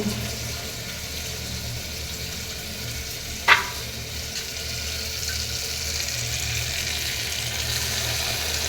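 Water is tipped into a pan of potato curry simmering on a stove, giving a short splash over a steady background sizzle with faint stirring; no one talks.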